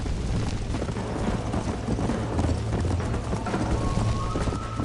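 A horse gallops in Red Dead Redemption, its hoofbeats a steady, dense drumming that stays loud and close from start to finish, with no talk over it.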